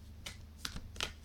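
Tarot cards being shuffled by hand, three quick crisp riffling bursts close up, soft and separated by short pauses, with no talking.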